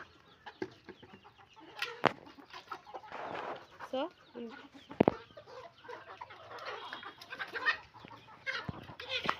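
Hens in a home flock cluck and murmur close by, with scattered irregular calls and a few louder squawks over soft background voices.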